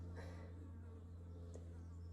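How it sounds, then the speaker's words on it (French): A housefly buzzes steadily in a warm bedroom in the south of France, a continuous close drone over a low hum, with no one speaking. "il y a une mouche dans la chambre"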